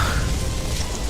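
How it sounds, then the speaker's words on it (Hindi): Steady, heavy rain pours down in an evening downpour, a dense, loud, unbroken hiss across the whole moment with no talking. "शाम को तेज बारिश होने लगी सो अलग।"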